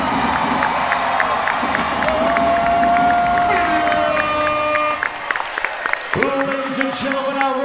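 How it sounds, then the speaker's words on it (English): A packed crowd at a fight event cheers, whoops and applauds loudly and steadily for the fighters, and shouts and whistles rise above the roar. "Let's make some fucking noise for both of these fighters."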